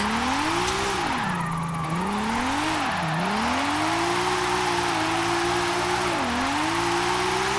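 A 1983 Volvo 242 Turbo with all-wheel drive power-slides in Forza Horizon 5. The engine holds a loud, sustained drone that rises and dips repeatedly with throttle, and tires squeal throughout the slide.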